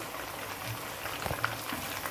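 Cashew, almond and ginger-garlic paste frying in a pan for a chicken dish, a soft, low bubbling sizzle with a few faint pops, quiet and steady with no talk.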